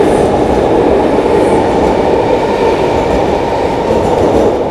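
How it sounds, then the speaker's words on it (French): A long metro train passes close by with a loud, steady rumble and rolling wheel noise that holds throughout without pause. "il y a ce foutu métro, on va le laisser passer. Là, il est long en plus."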